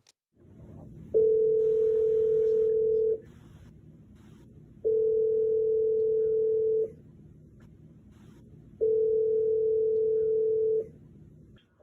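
Telephone line tone as a call is placed, three steady, evenly spaced tone pulses of about two seconds each over a quiet low hum, with no voices.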